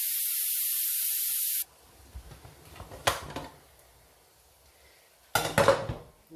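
A pressure cooker of chickpeas letting out its steam, a loud continuous hiss that stops abruptly, followed by metallic clatter of the lid and pot and a final burst of clanking and hissing.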